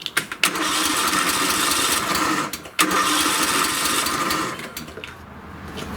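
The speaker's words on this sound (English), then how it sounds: "So I'll just show you what it's actually doing, which is just basically spinning over and not starting." A lawn tractor engine cranks over without catching, a steady whirring churn of the starter running continuously for several seconds with one brief pause, close and loud.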